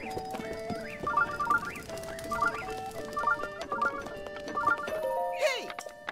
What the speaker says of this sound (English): Now I have a horse.